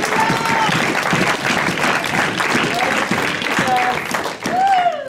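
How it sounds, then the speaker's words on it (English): A worship congregation gives the Lord a hand clap during a sermon, loud continuous clapping mixed with cheering and shouted voices, close and full, with some whistle-like vocal sounds rising near the end. "Somebody get the Lord a hand clap."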